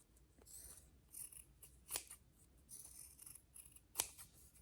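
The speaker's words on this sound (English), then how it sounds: "Then I'm going to trim the fabric" Scissors snipping fabric at the edges of a cardstock pattern piece, a series of quiet close crisp cuts in an irregular rhythm, two sharper snips standing out, no talking.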